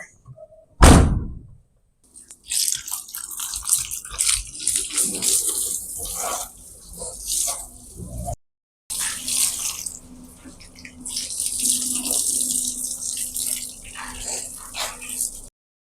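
Water is poured over the top of a vehicle, splashing loudly and close in long, steady stretches with a brief silent pause midway.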